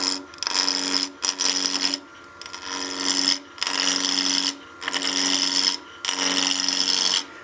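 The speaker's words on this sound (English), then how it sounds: "To rough this out, I'm about 1400 RPM, and we'll just slowly ease the corners off the blank." A wood lathe spinning at about 1400 RPM, with a spindle roughing gouge easing the corners off a wine glass blank. About six loud rasping cuts, each roughly a second long, are separated by short gaps where a motor hum continues underneath.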